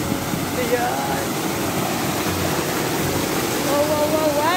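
A natural spring gushes steadily near a ravine, with water also running through a pipe, giving a constant close rushing wash while a person talks over it.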